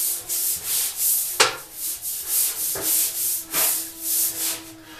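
A brush scrubs a bathtub in steady back-and-forth strokes, a close, rhythmic hissing rub with occasional sharper scrapes and no talk.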